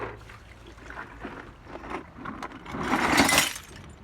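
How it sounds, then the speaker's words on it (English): Water trickles and splashes off rusty metal parts from a 1970 Ford Mustang Mach 1, an uneven dribbling with a louder gush and splatter near the end, close up and without talk. "so this is just water now and whatever was on the metal"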